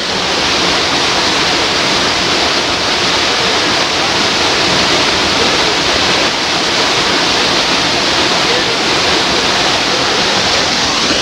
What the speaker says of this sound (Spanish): bajar aquí un poquito la cámara para que ustedes puedan ver cómo se observa el fondo de esta cascada